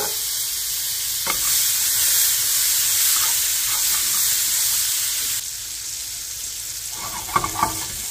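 Garlic frying in a pan for garlic shrimp, a steady close sizzle with faint stirring clinks and a few scraping knocks near the end.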